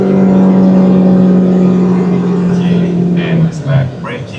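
A Proton Saga 1.5 CVT car accelerates on a track, its engine a steady droning hum under a voice talking over it, rising slightly near the end.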